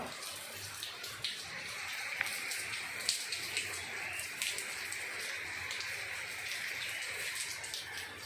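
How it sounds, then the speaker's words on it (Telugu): Steady first monsoon rain patters continuously with a few louder drips standing out, a dense wash of falling water with no voices. "ఈ వానలు అయితే కురుస్తున్నాయి"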